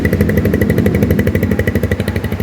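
A Rusi motorcycle engine runs steadily up close, giving a loud, even, rapid thumping idle throughout with no talk.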